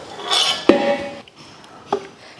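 A ladle stirs a large batch of tomato rice for about twenty people, metal knocking and clinking against the pot in a few sharp, close hits with soft scraping between them.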